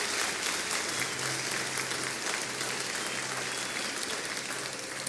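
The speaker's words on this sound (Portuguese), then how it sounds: "Pode aplaudir a Jesus." A church congregation applauds steadily, a dense wash of clapping that continues without pause from start to finish.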